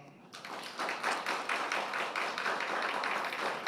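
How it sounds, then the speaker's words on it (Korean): A church congregation applauding after a quiz contest award ceremony at a Korean Sunday service, steady dense clapping from many hands filling the room, moderately loud and sustained throughout. "성도님들께서는 박수로 뜨겁게 축하해 주시기 바랍니다"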